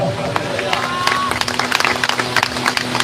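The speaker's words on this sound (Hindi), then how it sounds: "तो ताली बजाओ" A congregation at a Punjab church conference claps together: loud, crowded hand claps with a busy rhythm, mixed with voices and murmuring throughout.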